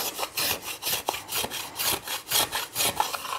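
Wood of a violin back being worked by hand in a luthier's workshop: a steady run of about a dozen rhythmic, raspy strokes, close and fairly loud, with no talk.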